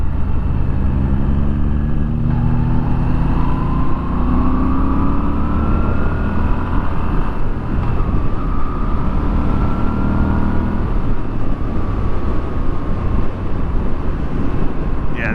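A Moto Guzzi V7 Special motorcycle engine runs continuously close by, a steady throbbing drone with slight pitch changes, mixed with strong wind rush from riding.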